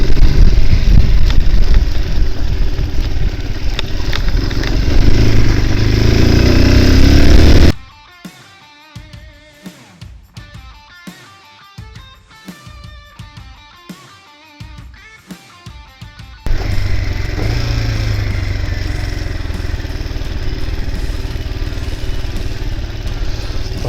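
A new motorcycle's engine runs loud and steady while riding out to a wheat field, drops to a quieter choppy stretch midway, then resumes its continuous hum.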